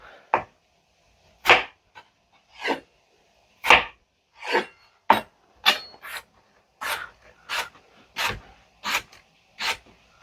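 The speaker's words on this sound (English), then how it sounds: "that's how you cut potatoes" Knife cutting through raw potatoes, about a dozen sharp chopping strokes spaced roughly one per second, close and fairly loud, with quiet gaps between and no talking.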